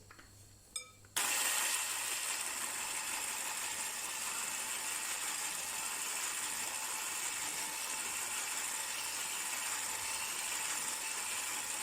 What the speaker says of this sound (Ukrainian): Збиваємо міксером до світлої пухкої маси, спочатку на невеликій швидкості.